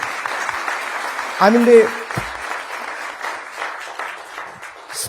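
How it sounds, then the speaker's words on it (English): Audience applause for the Indian Air Force at a political gathering in Singapore, a sustained crowd clapping wash under a speaker's voice, with a brief louder burst of sound partway through. "I would like all of you to give a great round of applause for Indian Air Forces."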